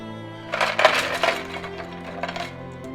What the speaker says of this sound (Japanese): 氷水で冷やします。